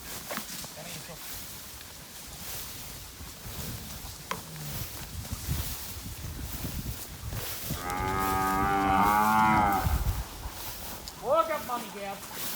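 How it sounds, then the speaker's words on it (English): Cattle moo loudly and nearby while being mustered on a mountain block, with one long, drawn-out low moo and a shorter call after it, over outdoor ambience and a man calling to the herd. "Walk up, cows."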